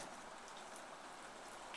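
Steady rain falls on a rainy day, a soft, even wash of drops heard alone and fairly faint with no voices over it.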